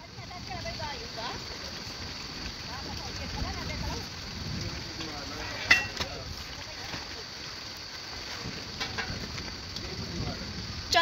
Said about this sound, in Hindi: अभी ना हल्की हल्की बारिश पड़ रही है